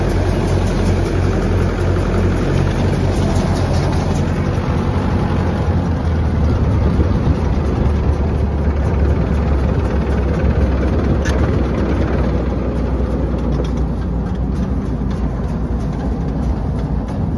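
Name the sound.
tractor engine running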